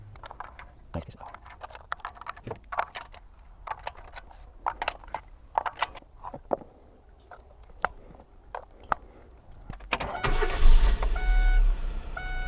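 Clicks and knocks under quiet talk give way to a long-sitting car's engine cranking and catching after valve cover gasket and tube seal work, then settling into a steady running rumble.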